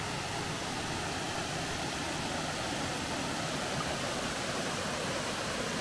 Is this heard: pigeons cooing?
no